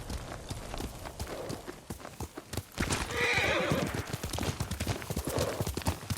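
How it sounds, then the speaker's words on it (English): In the samurai video game Ghost of Tsushima, a horse gallops with rapid, close hoof clip-clops and lets out a loud neigh midway, the hoofbeats carrying on afterward. "Yuriko's horse. She can't be far."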